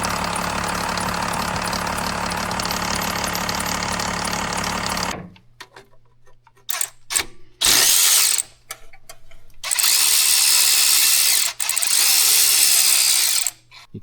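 Power tools whir and rattle in bursts while removing a worn belt tensioner from a 12 valve Cummins engine, a long steady run first, then short intermittent spurts separated by pauses.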